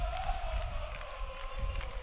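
Crowd at a 7-on-7 intramural fraternity football championship game, a broad steady wash of cheering and chatter with a sustained tonal horn or whistle-like drone running underneath.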